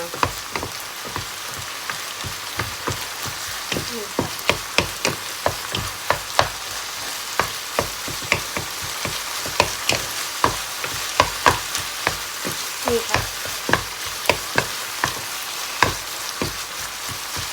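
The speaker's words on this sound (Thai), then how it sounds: "พริกก็เผ็ดอยู่แล้วนี่ค่ะ ผัดคลุกเคล้าให้เข้ากันนะคะ" Minced beef and chili stir-fried for a spicy beef krapow, with a steady crackling sizzle and regular sharp spatula taps against the pan, close and continuous with no one speaking.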